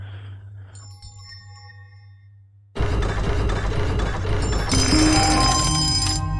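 A bell rings inside a puzzle in the video game The Timeless Child, starting as clear chiming tones over a low hum and then giving way to a loud, dense clatter of mechanism-like noise that continues to the end.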